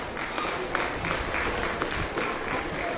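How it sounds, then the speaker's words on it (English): Spectators at a county fair swine show applauding breeding exhibitors, a steady, moderately loud round of clapping in an open arena lasting a few seconds. "Let's go ahead and give all of our breeding exhibitors a nice round of applause."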